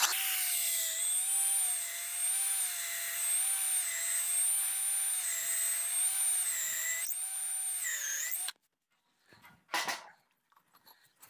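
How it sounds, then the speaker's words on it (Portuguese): A power drill bores holes into a wooden rafter, whining steadily and loudly with slight wavering pitch for about eight seconds before stopping abruptly, followed by brief quiet knocks. "Então a gente vem faz a furação aqui por cima"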